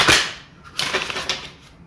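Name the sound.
shuffling a deck of cards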